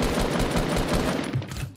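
Rapid automatic gunfire rattles steadily in a Fortnite battle royale match, dense repeated shots at moderate loudness with no talking.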